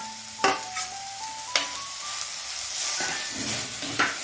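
Curry leaves and onion fry in a clay pot for a village-style chicken curry, giving a steady close sizzle broken by a few sharp crackles and scrapes.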